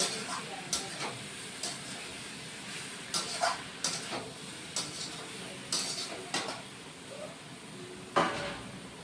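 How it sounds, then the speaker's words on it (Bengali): Spices and chilli powder for a jackfruit and prawn curry are stir-fried in a pot, a utensil scraping and clinking in repeated strokes over a faint sizzle, close and fairly quiet, with no one speaking. "লাল লঙ্কার গুঁড়ো দিয়ে দিচ্ছি দিয়ে এখন আবার কষিয়ে নিব"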